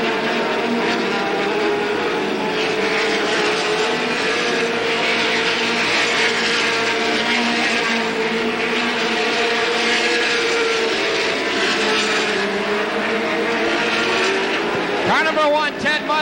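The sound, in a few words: race cars racing around the track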